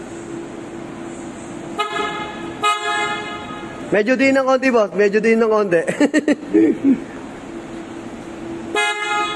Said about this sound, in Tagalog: pasample nga ako, sir, nung busina natin